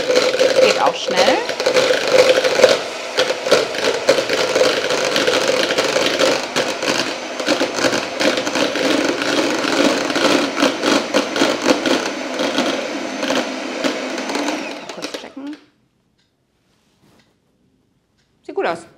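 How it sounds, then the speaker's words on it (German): An electric mixer whips egg whites, whirring continuously at high speed for about fifteen seconds, its motor rattling and buzzing, then cuts off into near silence. "Ich muss jetzt einmal das Eiweiß steif schlagen, und zwar bis es Spitzen zieht."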